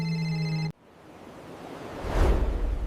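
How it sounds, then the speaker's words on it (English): A telephone rings with a brief electronic tone that cuts off abruptly, followed by a rising whooshing swell of noise. "an unexpected call arrived"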